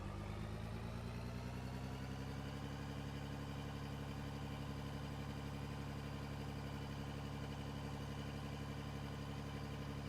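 Wheel loader engine in the game Out of Ore runs at a steady, throttled-up drone, rising slightly at the start then holding a constant, even pitch with a dense rumble and no load variation, alone without talk.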